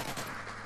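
Gunfire from the video game Modern Warfare 3 rings out as a short, dense, loud burst of rapid shots that fills the moment with no speech.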